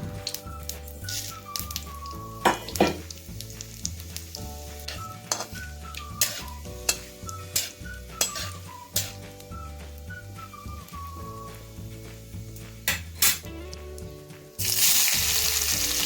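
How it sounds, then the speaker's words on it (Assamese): Bay leaves, dried chilies and whole cumin sizzling and crackling in hot oil in a wok, with sharp pops and stirring scrapes over soft background music, followed by a louder burst of frying near the end. "তেজপাতখিনি দিয়াৰ পাছতে শুকান জলকীয়া আৰু গোটা জিৰাও দি ল'ম"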